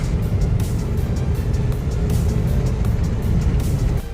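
A car towing a trailer on the road gives a steady, loud engine and tyre rumble from inside the vehicle, continuous with slight fluctuations and no speech.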